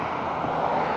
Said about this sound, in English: That's the helicopter flying over.